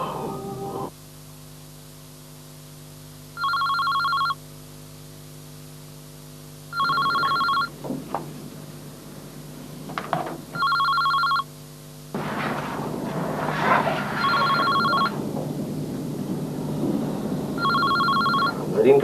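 A telephone bell rings in repeated double bursts, loud and close, set against a steady low hum in a domestic drama scene; voices and room noise rise toward the end.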